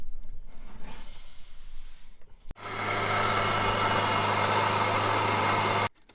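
An electric stone grain mill with two granite blocks, one spinning, grinds einkorn grain into flour, starting with a thump and then a loud, steady droning roar up close until it cuts off.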